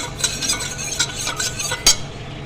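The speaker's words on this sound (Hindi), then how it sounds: "अब ये जो हमने कस्टर्ड मिक्स करके रखा था उसको एक बार फिर मिक्स करेंगे" A spoon stirs custard mix through milk cooking in a pot, making a steady run of soft scraping and clinking strokes with one sharper knock near the end, close and clear, without talk.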